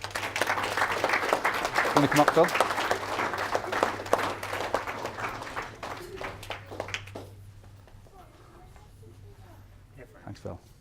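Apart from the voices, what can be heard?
audience applause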